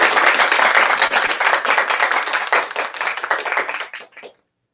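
An audience at a bookstore launch event applauds to welcome author Rafael Frumkin, with dense, lively clapping that thins out gradually and stops after about four seconds.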